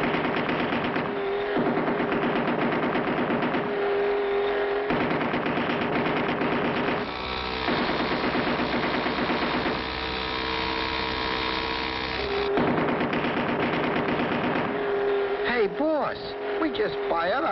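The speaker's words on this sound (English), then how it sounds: "Just fired our last round of ammunition, and they're still coming" Cartoon machine guns from the 1959 Clutch Cargo animated TV series blast in sustained, loud rattling bursts, mixed with a dense, band-limited old soundtrack with brief pauses between volleys.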